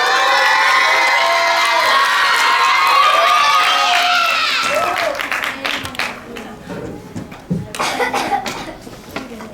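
School audience at a third-grade student fair applauds and cheers to welcome a student speaker: a loud burst of cheering and shouting fades into scattered clapping, with a few coughs and voices near the end.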